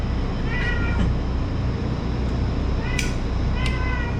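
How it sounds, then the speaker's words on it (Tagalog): A cat meows a few times, short and nearby, over a constant low background rumble. "Meron kasi isang pusa dito."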